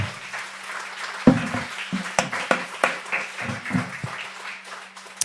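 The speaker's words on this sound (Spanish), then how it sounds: "Dale un fuerte aplauso a Cristo." Loud, uneven applause from a congregation during a Spanish-language church service, a burst of clapping with sharp peaks swelling and fading over several seconds.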